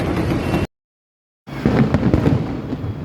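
Fireworks going off at a seaside area near an arena and a Ferris wheel, a dense rolling crackle of bursts, cut by a short silent gap before more loud popping resumes.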